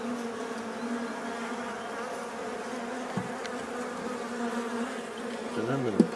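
Busy honeybees in a hive bringing in fresh nectar, a steady, loud droning buzz with passing bees flying close to the microphone, one louder near pass at the end.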